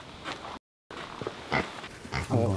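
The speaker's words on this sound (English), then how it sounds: "There's actual pigs." Pigs in a pig hut grunt and oink in several short, close bursts, with rough squeals building toward the end after a brief gap.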